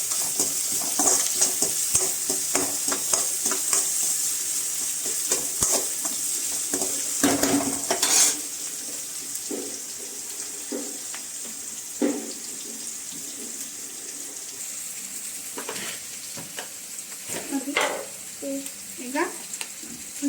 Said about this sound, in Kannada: ಅದನ್ನು ಇವಾಗ ಫ್ರೈ ಮಾಡ್ಕೊಳ್ಳೋಣ ಗೋಲ್ಡನ್